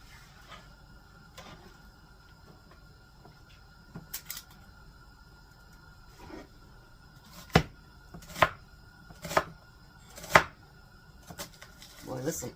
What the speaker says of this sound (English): And then maybe I'll chop that in half.